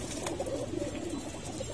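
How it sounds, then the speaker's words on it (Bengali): Several pigeons coo steadily at close range inside a pigeon loft, soft overlapping calls repeating over a low, continuous background. "এই যে আমাদের সুমনের কবুতরগুলো"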